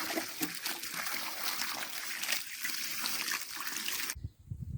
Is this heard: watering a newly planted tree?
yes